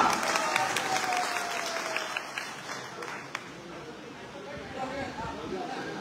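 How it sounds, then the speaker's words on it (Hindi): Applause from a crowd at a political rally, clapping that is loudest at the start and gradually fades, with voices and an amplified speaker heard over it. "जोरदार तालियां।"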